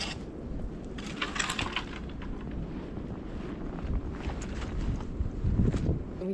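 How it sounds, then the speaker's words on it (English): Strong wind gusts buffet the microphone outdoors among maple trees during sugaring season, a rough low rumble swelling and easing in waves with occasional brighter rustles and knocks. "keep getting these big gusts of wind coming through"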